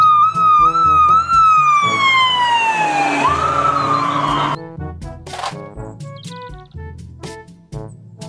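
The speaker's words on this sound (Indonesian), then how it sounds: "Mobil polisi" An electronic siren wails with a falling tone, then switches to a different chirpy electronic pattern with beeps, like a toy police car, close and loud.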